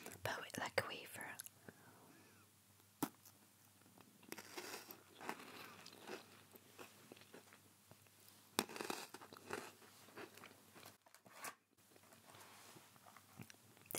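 Crunchy wafer chocolate snack, similar to Kinder chocolate, being bitten and chewed close to the mic, with crisp irregular crunches and soft whispering throughout.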